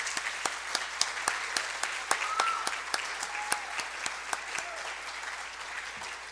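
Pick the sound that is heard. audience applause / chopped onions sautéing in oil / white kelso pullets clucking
audience applause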